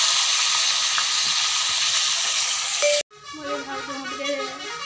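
Fish sizzles hard in hot oil in a pan, a loud steady hiss that cuts off abruptly, leaving a quieter bubbling crackle with faint background sounds.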